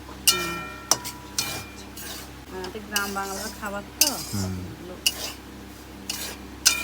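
Semolina frying on a gas stove is stirred in a metal pan, giving sharp spoon clinks and scraping strokes at uneven intervals, up close, while someone talks between them.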